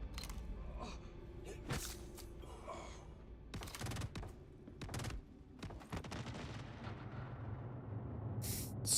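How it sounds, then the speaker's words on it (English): Sci-fi gunfire in Star Citizen snaps out in scattered sharp bursts over about nine seconds, with a few separate shots and short volleys amid a steady background hum, fairly close and unaccompanied by speech. "Why are you shooting me?"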